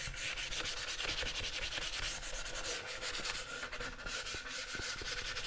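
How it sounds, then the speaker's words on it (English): Hand sanding a wooden serving tray with 120 grit sandpaper: steady, rapid back-and-forth scratchy strokes, close and continuous, with no one speaking. "This is a 120 grit sandpaper."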